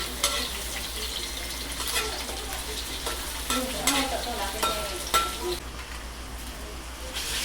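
Garlic, onion and chili fry in oil in a wok (kawali) for squid adobo, a continuous sizzle broken by repeated spatula scrapes and stirring clatter, close and fairly loud.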